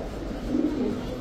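A pigeon gives a brief, soft, low coo close by, a single muffled rolling call in a quiet setting among pigeons kept for sale.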